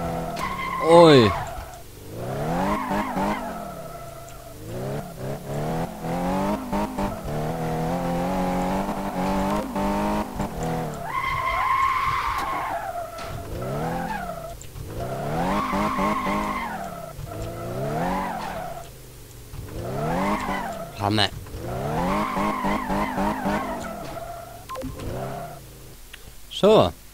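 Car being test-driven around a test track in the Car Mechanic Simulator 2015 video game, with engine tones rising and falling through repeated acceleration runs and tire skids, and someone speaking over the engine at times.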